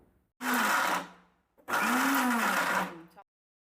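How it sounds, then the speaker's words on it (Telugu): A mixer grinder whirs through mint chutney with water added, running in two short loud bursts about a second apart, close and steady, with no talking. "ఇప్పుడు ఒక ట్వంటీ ఎంఎల్ నీళ్లు పోసుకొని మరోసారి గ్రైండ్ చేసుకుందాం"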